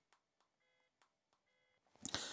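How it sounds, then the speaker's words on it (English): Faint, short beeps from a Razer Kishi phone game controller as buttons are pressed, several quiet ticks in an irregular rhythm up close, ending in a louder burst of noise. "You can just hear the beep in there as I press that one."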